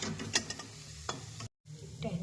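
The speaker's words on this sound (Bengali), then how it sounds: "দেখো দু পিঠ সুন্দর করে লাল লাল করে ভাজা, এবারে তুলে নেবো।" Pumpkin flower fritters crackle and hiss in hot oil close by, with a few scraping stirs and a brief pause in the sizzle.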